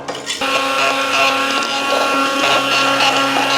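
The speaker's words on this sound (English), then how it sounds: "we're gonna take our immersion blender here, and we're actually gonna blitz this down while it's nice and hot" An immersion blender with a throttle control blitzes hot spinach, starting up suddenly and then running with a steady, loud whirring drone for several seconds.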